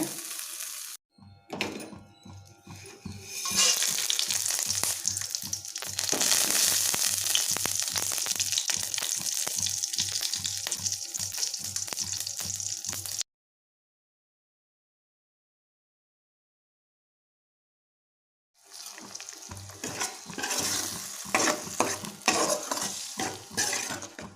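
Mint leaves sautéing in a pan for mint rice, a dense continuous sizzle with rhythmic spatula stirring and scraping, broken by a stretch of silence before the frying resumes.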